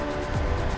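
A car passes close by during a fast electric scooter ride on a Nami Burn-E Viper, its low rumble swelling briefly over constant wind roar and scooter motor noise.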